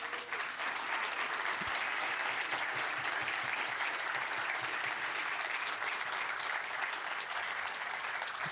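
An audience at a tech talk on PR reviews breaks into long, even applause, a dense continuous patter of many hands that stays steady for several seconds without letting up.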